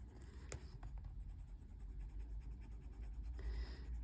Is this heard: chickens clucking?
no